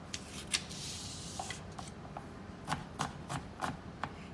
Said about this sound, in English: Okay, so now we're just going to be chopping it.